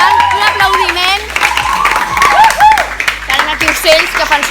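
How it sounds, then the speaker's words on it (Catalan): Scattered applause and some cheering break out from an audience of young readers at a book presentation, rising and falling under a sung or chanted melody and a low hum. "per tant, un aplaudiment"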